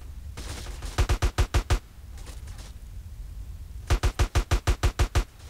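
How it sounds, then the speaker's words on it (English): Rapid bursts of gunfire in Grand Theft Auto San Andreas: one quick string of about six shots, a pause, then a longer volley of about eight, sharp and close with no talking. "Who the hell is shooting at me?"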